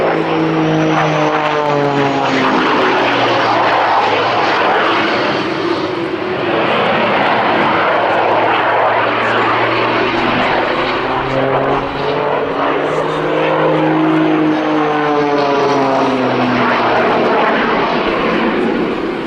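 A Pitts S-2S aerobatic biplane performs an air show display at Duxford, its propeller engine roaring loud and continuous, rising and falling in pitch as it spirals and turns tightly overhead.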